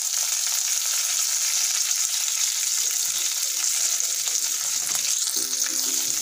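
Green chillies and curry leaves frying in oil for a vermicelli upma, a steady loud sizzle that holds the whole way through, with a few faint clinks near the end.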